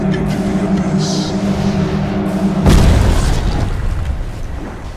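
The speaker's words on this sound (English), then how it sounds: "Radiant's middle tower has fallen." A deep boom marks a tower collapsing in Dota 2, a single heavy explosion rising out of steady game ambience and then slowly fading.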